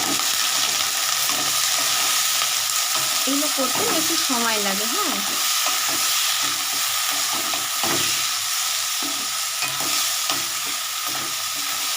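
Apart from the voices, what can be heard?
stirring and frying carrots and vegetables for veg chow mein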